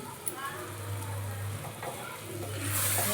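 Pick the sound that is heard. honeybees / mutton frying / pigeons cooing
mutton frying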